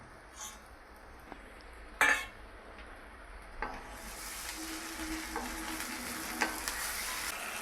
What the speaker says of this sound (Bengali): তেলে ভালো করে নাড়াচাড়া করে নিতে হবে